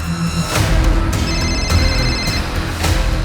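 A telephone rings with a repeated bell-like trill in short bursts over several seconds, loud and close, with low rumbling background and no talk.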